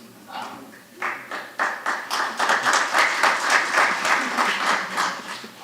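Applause from a small group at a city council meeting, starting as a few scattered claps and then building into steady, brisk clapping for several seconds, fairly close and with no voices over it.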